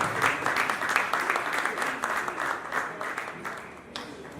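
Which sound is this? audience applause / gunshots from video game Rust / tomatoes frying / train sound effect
audience applause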